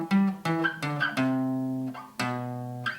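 Guitar repeating a riff, sustained single picked notes in its familiar stepwise pattern with two long held tones, moderately quiet and close, no voices.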